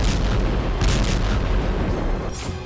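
A powerful explosion from a Russian strike on a Ukrainian intelligence centre in Sumy, Ukraine. It comes as a heavy, rumbling boom with rolling low-end roar that carries on for a couple of seconds before easing off.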